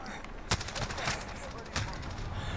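Sniper rifle fire in a first-person shooter game: two sharp, loud shots about a second apart, each trailing into a brief rumble over steady game background noise.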